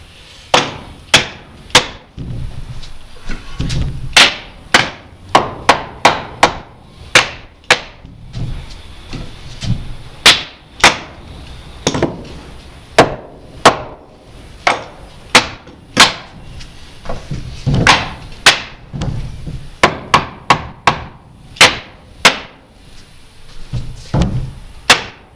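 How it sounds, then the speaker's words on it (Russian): Two hammers tap wooden subfloor boards of a timber interfloor ceiling, struck methodically toward each other; a steady run of loud, sharp, woody knocks in irregular clusters, close and with no talk. "Методично простукиваем каждое место 2 молотками навстречу друг другу."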